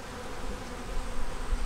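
South Carolina honey bees hum in a low, even drone from an opened hive, faint and steady with no voices.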